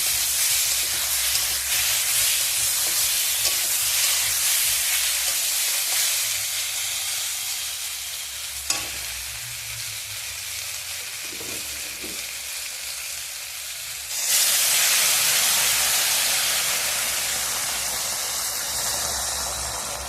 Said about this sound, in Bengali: আমি এবার এর মধ্যে দিয়ে দেবো গরম জল।